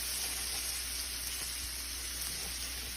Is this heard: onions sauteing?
yes